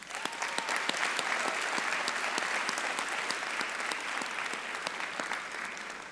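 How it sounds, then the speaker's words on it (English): Sustained applause from a large audience at a school graduation ceremony, steady clapping filling the room without a break, with a faint murmur underneath. "Now's the time to give your parents and family a big round of applause"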